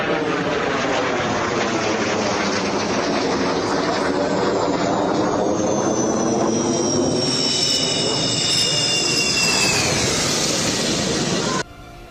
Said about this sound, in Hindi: वायुसेना के फाइटर सुखोई, जगुआर सहित कई फाइटर विमान ने कौशल दिखाने के साथ फ्लाई पास्ट किया